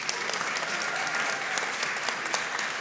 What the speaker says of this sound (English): let's give another round of applause to our sponsors.